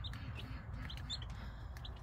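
Two baby chicks being moved into an outdoor space, giving a scattering of faint, high, short peeps at irregular intervals over a low rumbling background.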